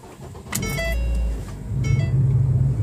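A car, apparently starting up and driving off, with a low engine rumble rising, a few brief mechanical clicks and a whir, then steady road noise, close and fairly loud, no voices.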